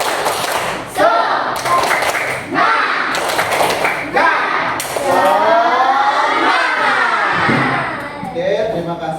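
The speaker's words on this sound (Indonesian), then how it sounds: "sebelum kita mulai, kita tepuk semangat dulu" Classroom group performing a rhythmic spirit clap, bursts of claps and thumps on desks in quick patterned sequences, with children and adults shouting along loudly throughout.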